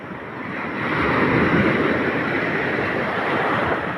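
Steady, broadband rush of ocean surf with a low rumble, swelling slightly and holding at a constant roar with no voices.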